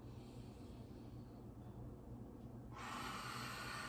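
A single deep breath drawn in through the nose, close to the microphone, rising to a louder rush near the end.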